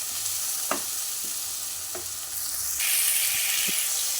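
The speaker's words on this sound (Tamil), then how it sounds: "நான் எடுத்து வச்சுருந்த இஞ்சி பூண்டு பேஸ்ட்டை சேர்த்துட்டேன். நல்லா வதக்கி கொடுக்கலாம்." Ginger garlic paste sautéing in a pan makes a steady hiss, with a few sharp clicks of a spoon stirring against the pan, close and moderately quiet, without talking.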